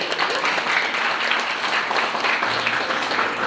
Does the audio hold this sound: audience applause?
yes